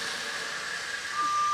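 A water flow alarm on a wet sprinkler system with a riser check valve sounds during a fire protection test, a steady tone under a constant hiss of flowing water, with a brief sustained pitch near the end.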